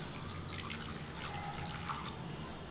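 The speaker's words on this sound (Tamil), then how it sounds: "இப்போ இந்த சப்ஜா சீட்ஸில் நம்ம தண்ணி இது முழுகிற அளவுக்கு சேர்த்துப்போம்" Water poured over sabja seeds in a bowl while making a custard apple payasam, a soft continuous trickle and drip of liquid, faint and close, with no talking.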